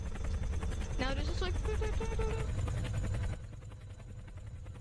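Helicopter in the Emergency Landing beta video game: a steady, dense rotor chop and engine whine with a voice talking over it, the level dropping slightly near the end.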